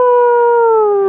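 A Shih Tzu lets out a single sustained howl, a loud, close, steady tone that dips slightly in pitch over about a second, heard alone without talk.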